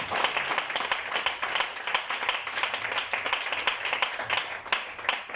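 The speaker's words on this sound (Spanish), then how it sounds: "Dale un aplauso al Señor, hermanos" A church congregation claps and applauds together, a dense continuous wash of hand claps held at steady loudness throughout, with no voices above it.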